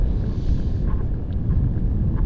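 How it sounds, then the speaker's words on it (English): Wind buffeting the microphone during a paramotor landing approach; a constant, loud low rumbling roar with no other sounds. "see what this wind is doing on my streamer"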